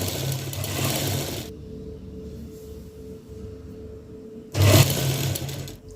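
Sewing machine stitching a folded seam on a petticoat, running in two loud bursts at the start and end with a quieter pause between, close by and with no talking.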